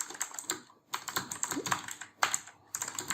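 Keys clatter on a computer keyboard as code is typed for an Ionic app, in quick close bursts of clicks broken by short pauses.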